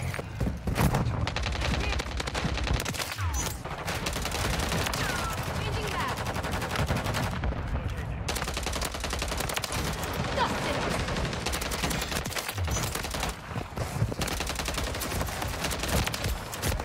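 Dense, continuous gunfire from the video game Modern Warfare 3 (MW3), with rapid SMG bursts and fusillades packed closely together throughout, loud and steady over game sounds.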